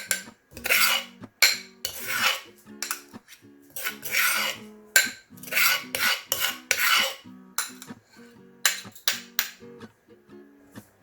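A utensil repeatedly clinks and scrapes against a bowl as crushed ingredients for Thai chicken noodle soup are scooped in, in irregular bursts of close, sharp metallic scraping.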